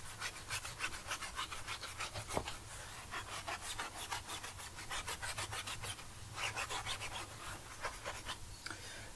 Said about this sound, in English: We'll scrub the wheel again, and then we'll actually agitate the rim as well.